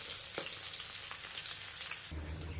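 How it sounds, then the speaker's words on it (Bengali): Tilapia fish sizzles and crackles in hot oil in a wok, a steady close frying hiss with occasional sharp pops and a louder burst of sizzling toward the end. "বাকি মাছগুলো ভাজা করে নেব"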